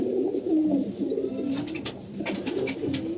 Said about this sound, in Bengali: আমাদের হাই ফিলার কবুতর হাই ফিলার আমাদের একটাই আছে এই যে